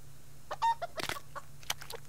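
Short clucks from a pair of chickens in the survival game Subsistence, quiet, scattered and close, with a steady low hum underneath.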